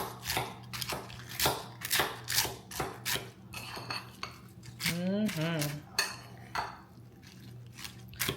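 Metal utensil mixing a taco bowl, repeated clinks and scrapes against the bowl in an irregular rhythm, close and moderately loud, with a brief voice in the middle.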